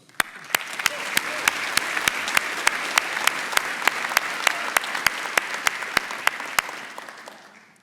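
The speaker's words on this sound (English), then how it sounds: "One more round of applause." Applause from the audience at an annual luncheon, a full room of steady clapping that swells quickly, holds for several seconds with a few sharp close claps standing out, then fades away.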